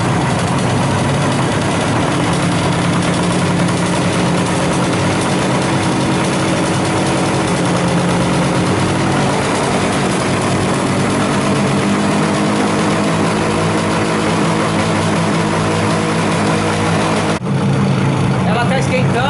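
A Suzuki GT motorcycle engine idles steadily and close by, with a constant low rumbling drone, and voices talk over it.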